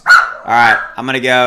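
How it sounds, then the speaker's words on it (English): Several dogs bark in loud, close bursts, three sharp yelping barks in quick succession, with a voice talking over them. "Hey, there's the dogs."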